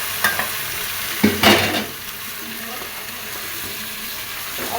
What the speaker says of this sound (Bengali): খাসিটা একটু ভাজা ভাজা করে নিই।